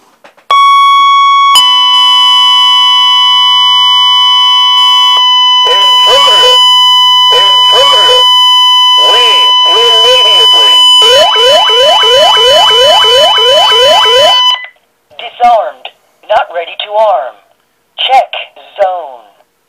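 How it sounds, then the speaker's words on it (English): Elk voice siren driver on a DIY Honeywell Lynx Touch alarm system blaring a loud, steady tone, then a rapid warbling whoop, then choppy voice-like bursts, all close and piercing. "another siren with a voice warning you leave immediately"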